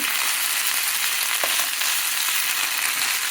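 Curry leaves and tamarind frying in a pan for a curry leaf chutney give a steady, close hiss of sizzling with a brief faint stir partway through, no voices.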